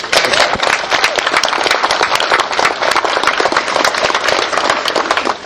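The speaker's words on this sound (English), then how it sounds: "Let's give Audra a big round of applause" Loud, sustained applause from the audience at a political fundraiser lunch in Westlake Village, California, a dense continuous roar of many hands clapping close by.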